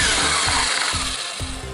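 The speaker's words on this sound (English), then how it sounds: "And drill a little bit more." A power drill bores out a rivet on a Mercedes W163 ML-Class door panel, giving a loud, steady grinding whine close up with a faint pulsing rhythm as pressure is applied.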